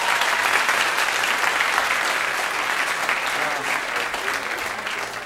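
A comedy-show audience claps in a dense, continuous burst that starts loud and eases off slightly toward the end, with no talk over it.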